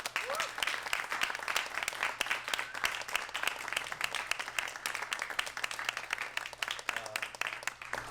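An audience at a bookstore poetry reading applauds to welcome poet Major Jackson, dense steady clapping filling the room without pause.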